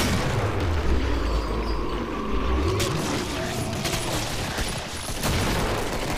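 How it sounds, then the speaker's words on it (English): A grenade explosion in Killing Floor on a Christmas-event ice cave map, a booming blast heard amid continuous gunfire and game noise, with the low rumble fading over several seconds. "Throwing a grenade."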